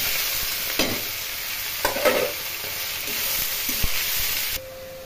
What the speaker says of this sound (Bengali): ফোড়ন ভাজা হয়ে গেছে, এখন এর মধ্যে খেরোগুলো দিয়ে দেবো